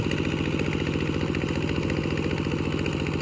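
An old farm machine engine idles close by, a steady low chugging pulse that runs evenly and loudly throughout with no voices.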